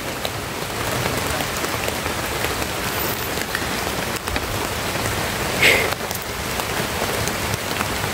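Steady rain patters on surfaces outdoors in a continuous even wash across the whole stretch, with one brief louder knock near the end and no voices.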